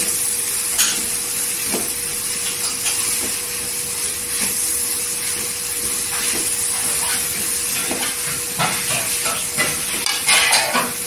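Coriander powder sautés in hot oil for a dry shrimp chutney, giving a continuous close hiss and sizzle with intermittent clinks and scrapes of a spoon against the pan, no voices.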